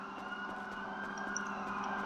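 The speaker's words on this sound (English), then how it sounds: "every time I go, there's like sirens that are really loud in this direction" Wailing emergency sirens in a roleplay video game, loud and steady from one direction, layered over a constant background hum.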